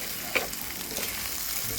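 Pork sisig made from lechon sizzles and is stirred in a hot pan, giving a steady, close hiss and crackle with a faint scrape of the spatula.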